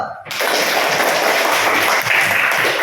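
A classroom of children claps hands together, a dense burst of applause that starts abruptly and keeps going loud and steady to the end.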